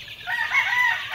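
A rooster crows once, with chickens nearby in a backyard farm pen, the call close and clear.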